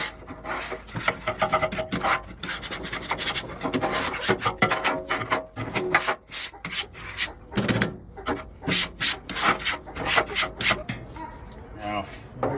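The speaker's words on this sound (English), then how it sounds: "even though I just sharpened this blade, it is not taking that color off" A freshly sharpened metal blade scrapes across the dark, stubborn seasoning on a Blackstone griddle, giving repeated rough rasping strokes in an uneven rhythm, close and fairly loud, with a voice talking over parts of it.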